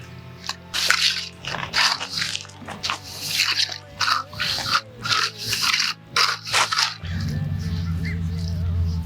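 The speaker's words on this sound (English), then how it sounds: "use your trowel to work the concrete up and down if you're using a bank" Trowel working wet concrete on a DIY skate ditch: repeated rough scraping and wet smearing strokes in an uneven rhythm, close and fairly loud, followed by a steadier low hum at the end.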